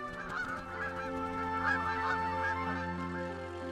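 Canada geese honk repeatedly in a loud, nasal chorus of overlapping calls, fairly close and continuous with no talking.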